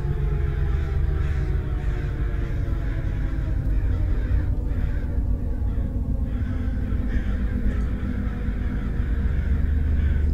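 Crows caw repeatedly over a steady low rumble of ambience in the video game Summer of 58, the calls layered and continuous throughout.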